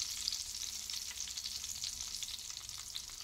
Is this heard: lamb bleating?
no